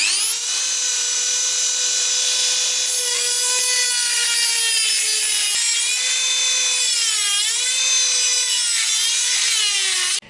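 A worn abrasive disc cuts into the metal of a car door lock on a Citroën Traction 11B, a loud, continuous high-pitched grinding whine whose pitch sags and wavers as pressure on the cut changes.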